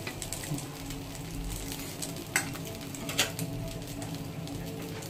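Steady frying sizzle from a flipped, crisply browned flatbread in a pan with added oil, continuous and close, with a couple of brief sharper crackles midway and no talking.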